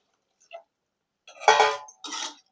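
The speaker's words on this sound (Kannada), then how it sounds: "ನೀರು ಹಾಕ್ಕೊಂಡು ಎಲ್ಲ ಒಂದ್ಸರಿ ಚೆನ್ನಾಗಿ ಮಿಕ್ಸ್ ಮಾಡ್ಕೋಬೇಕು." Rice and water are stirred together in a pot for paneer vegetable pulao, giving a few brief, separate scraping and sloshing bursts with quiet gaps between them.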